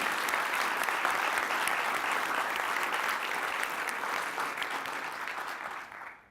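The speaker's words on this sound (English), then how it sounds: "Let's please give everybody who supported us a round of applause." Sustained applause from an audience at a startup demo day event, a dense, even roar of many hands clapping that holds steady before tapering off at the close.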